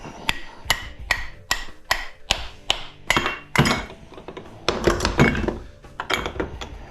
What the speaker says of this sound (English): Now, if we just take a little hammer, we should be able to just pound these right out.